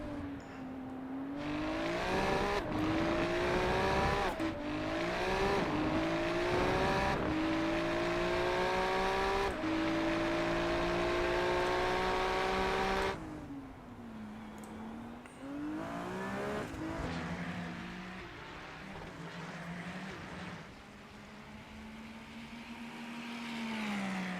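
Porsche race cars in a racing video game scream through an endurance race, engines revving up and down in rising and falling gear-change sweeps, loud and close, with gaps as cars pass and shift.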